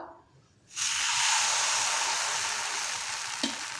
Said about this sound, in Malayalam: ഇതിലേക്ക് നമുക്ക് മാവ് ഒഴിച്ചു കൊടുക്കാം